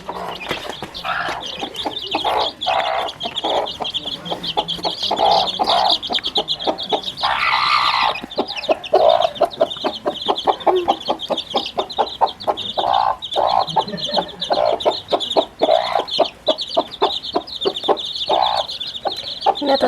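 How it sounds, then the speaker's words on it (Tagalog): A flock of chickens clucking at a rural farmyard, with busy, overlapping clucks and occasional louder calls close by, continuing steadily throughout with no talking. "Yung mga manok po na natin."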